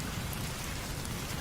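Heavy rain falls steadily on a roadside stop during a night journey, a dense, even hiss with low rumble throughout, close and constant with no voices.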